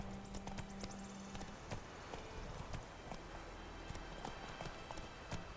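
Horse hooves trot in a steady clip-clop rhythm while riding in The Witcher 3, a continuous run of close, even beats over a low ambient bed of game sound.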